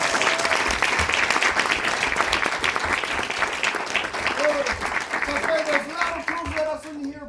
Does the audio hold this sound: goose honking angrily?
no